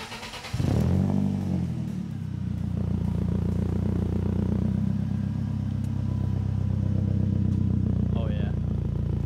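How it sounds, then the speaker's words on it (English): A BMW X2 engine starts with a sharp burst and then idles loud and close through a new test muffler, a steady harmonic rumble with voices talking over it. "We are just doing a sound test to see if this muffler will sound good"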